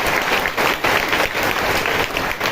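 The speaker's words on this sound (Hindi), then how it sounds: "ताली बजा के प्रभु का धन्यवाद करें।" A church congregation claps steadily in thanks to God, a dense, loud wash of many hands filling the whole moment with no voices rising above it.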